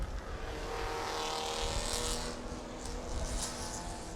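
Small race cars circuit racing at a Toyo Tires Racing Car Thailand 2023 event, heard as a steady roar of engines droning from a distance with rising and falling passes, continuous and without talk.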